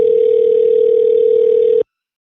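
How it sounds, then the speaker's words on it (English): A phone gives a single steady electronic tone, loud and close, holding for nearly two seconds before cutting off abruptly. "Even her ringtone's annoying."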